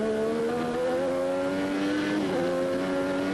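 A 1987 Formula One car powers out of the Suzuka chicane at the Japanese Grand Prix, its engine howling loud and close in one unbroken, rising note.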